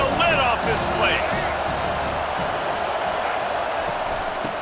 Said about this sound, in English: 3rd down and this crowd is tearing the lid off this place.